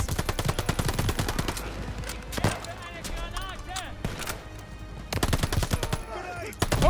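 Rapid machine gun fire in a Call of Duty Vanguard battle, loud dense bursts at the start and end with scattered shots between, as shouting voices carry over the gunfire.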